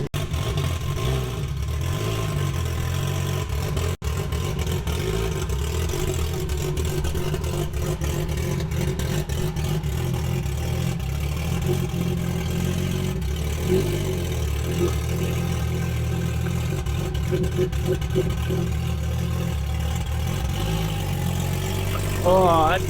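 A BMW E90 335 with a single turbo and DCT gearbox idles, then pulls away from a standstill with a steady mid-pitched engine drone and rising revs, with people talking over it.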